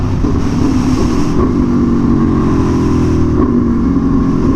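An Aprilia Tuono V4 Factory motorcycle's engine runs loud and close, a steady thick rumble with slight swells in pitch as the throttle varies, with no voices over it.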